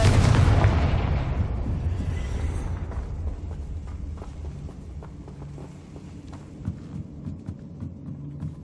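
Confringo blasting spell in the Hogwarts Legacy video game: one loud booming explosion at the start, decaying into a low rumbling hum with faint scattered clicks afterward.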